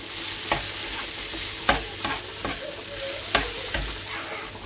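Beetroot frying in a pan with a steady close sizzle, broken by several sharp spoon scrapes and stirs spaced a second or so apart, with no talk.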